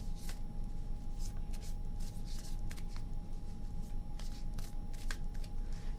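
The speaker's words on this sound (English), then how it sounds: "Two more shuffles." Tarot cards being shuffled by hand in a heated room, a steady rustle of riffles and soft card slaps over about six seconds, close and fairly quiet with a faint constant hum beneath.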